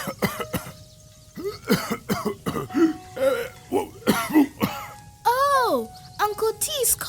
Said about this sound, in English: Uncle T's coughing because he's inhaling dirty air.